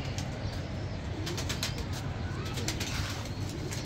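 Soft, low pigeon cooing repeats under a steady wash of ambient noise and faint rustling, fairly close; a Teddy breed pigeon.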